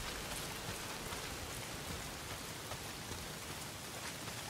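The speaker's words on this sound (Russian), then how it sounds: "Дождь хлещет!" Heavy rain pours down in the video game Days Gone, a dense, loud and unbroken wash of drops hammering surfaces close by, with no voices and no letup.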